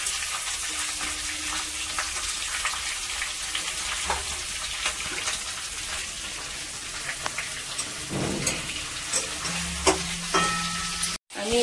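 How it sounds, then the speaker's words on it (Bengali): Potatoes fry in a small amount of oil in a pan, a dense, steady crackling sizzle like rain with occasional stirring scrapes, close and without talk. "আমি এখানে আলু ভেজে নিচ্ছি"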